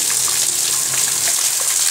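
Heavy rain pouring down in a steady, dense hiss of falling water with scattered splashes, loud and continuous throughout, with no voices.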